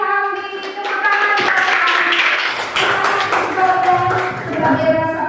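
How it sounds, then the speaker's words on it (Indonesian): A classroom full of students clapping steadily for several seconds, with a few voices calling out over the applause. "Tepuk tangan dulu buat kalian."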